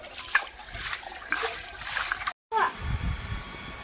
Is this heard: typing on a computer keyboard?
no